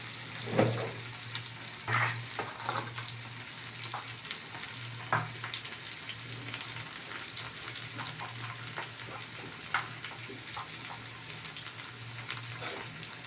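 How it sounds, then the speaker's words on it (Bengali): Spice masala fries steadily in a pan with a constant close sizzle, broken by a few louder stirring scrapes and clinks, with no talk. "মশলা কষা হবে"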